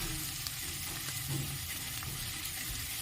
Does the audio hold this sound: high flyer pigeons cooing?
no